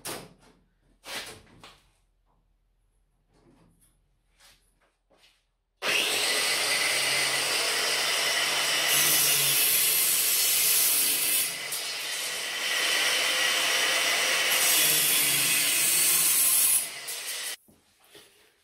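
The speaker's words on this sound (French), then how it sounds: "J'ai 2 rails que je vais couper, que je vais mettre ici." Metal rails for a CNC milling machine enclosure being sawn, a loud continuous rasping stroke that runs steadily for about twelve seconds after a few quiet knocks and shuffles.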